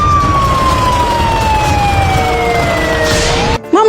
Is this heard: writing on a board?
no